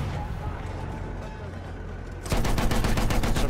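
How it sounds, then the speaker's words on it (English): Sustained gunfire in a Battlefield video game battle: a dense, continuous rattle of automatic weapons that jumps louder and closer partway through, with constant battlefield noise beneath and no clear talk. "Suppressing fire."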